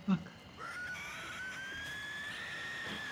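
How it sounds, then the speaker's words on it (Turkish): Zombies in the video game 7 Days to Die let out drawn-out, rising wailing screams that sustain across the moment, with people talking over them. "Oo çığlıklara bak ya."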